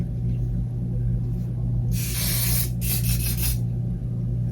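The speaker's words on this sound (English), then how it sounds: "take a little hairspray" Two hissing bursts of hairspray from an aerosol can, the first about a second long and the second a bit shorter, sprayed over teased 1960s-style hair. A steady low hum sits underneath, and no one talks.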